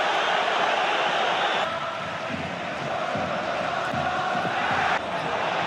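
A packed football stadium crowd at a Barcelona vs PSG Champions League match roars in a continuous, dense wash of noise, dipping slightly partway through and then swelling again.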